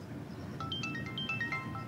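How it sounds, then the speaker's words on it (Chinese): A mobile phone ringtone sounds for an incoming call from an editor, playing a quiet, melodic run of short electronic notes alone in a still room. "哟，编辑来电话"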